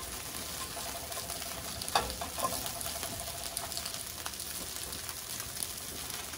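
Chorizo sausage slices browning in hot oil in a pan, a faint, steady sizzle and crackle with a few sharper pops and a light stir near the two-second mark.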